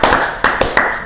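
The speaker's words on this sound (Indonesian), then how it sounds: "Tepuk tangan lagi dong." A few sharp, close hand claps ring out in a room, about four distinct smacks in quick succession with brief gaps between them.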